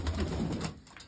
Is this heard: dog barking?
no